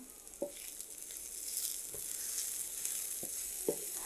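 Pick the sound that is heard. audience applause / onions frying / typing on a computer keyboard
onions frying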